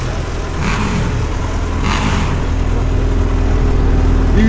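A car engine revving hard, likely a 1.9-litre TDI diesel, rising to a loud sustained mid-pitched roar with steady rumble, close by and with no voices.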